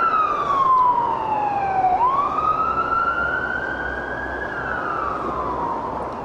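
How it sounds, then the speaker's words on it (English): A wailing police siren sweeps down and then rises again, loud and steady over a low rumble of traffic near Clevedon Court, Somerset, England, with no talking. "the beautiful surroundings disrupted by the sound of police sirens"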